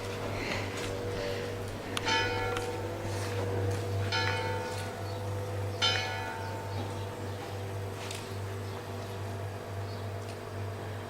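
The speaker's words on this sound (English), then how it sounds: "The bells mark the time." Church bells strike several times, ringing out clearly over a steady low hum and faint background noise.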